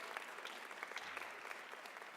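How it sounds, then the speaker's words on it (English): Audience applause at a Women's History Month luncheon, a steady patter of many hands clapping at moderate volume throughout, with no talk over it. "Please give us a round of applause."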